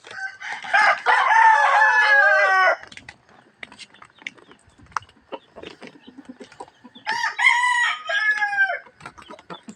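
Hens and roosters in a coop. A rooster gives two loud, close crowing calls, one at the start and one near the end, with scattered soft clucks and rustling between them.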